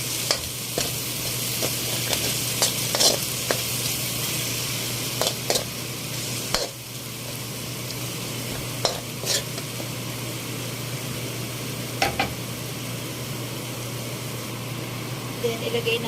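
Ginger, garlic, onion, tomato and shrimp paste sauté in a pan with a constant low sizzle, broken now and then by sharp scrapes and taps of a spoon as the mixture is stirred.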